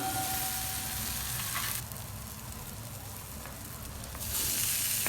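Spinach hitting hot oil in a pan for Maharashtrian palak varan: a steady, dense sizzle that drops to a quieter hiss partway through, then swells loud again, with no voices.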